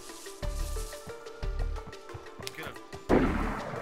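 Repeated gunfire rings out in DayZ, a survival shooter, as a steady series of loud shots followed by a heavier, closer burst near the end, with voices talking in the background.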